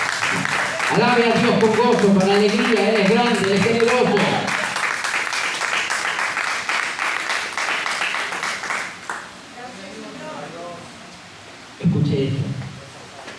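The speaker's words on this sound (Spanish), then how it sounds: "Dele un fuerte aplauso al Señor." Church congregation clapping for the Lord, a dense broadband wash of applause running under a preacher's loud sung and spoken praise, easing after a few seconds while his voice carries on.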